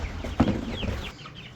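Broiler chickens cluck and squawk up close as they are moved from a box out to pasture on a homestead, with a louder burst near the start followed by softer scattered calls.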